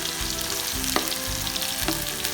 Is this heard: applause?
no